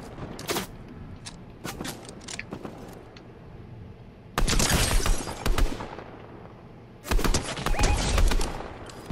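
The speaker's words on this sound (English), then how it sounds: "Let's keep shooting them." Video game gunfire in Fortnite, a trios match: bursts of rapid shots and scattered single cracks, with two loud, dense volleys near the middle and end, no speech.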